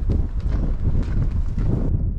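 Wind gusts across a desert RV campsite, buffeting the microphone with a constant loud low roar and rumble that varies slightly over the couple of seconds.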